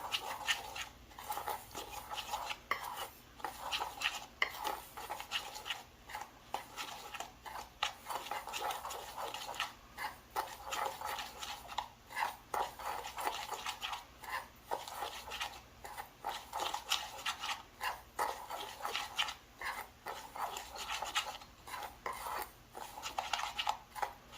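Cinnamon and brown sugar being stirred together in a bowl, giving a steady run of close scraping and rubbing strokes that continue without pause and without talk.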